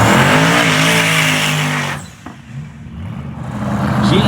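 2017 Nissan GT-R launching in a no-prep drag race roars loudly at full throttle for about two seconds, then drops away quickly as the car pulls off, leaving faint distant engine noise.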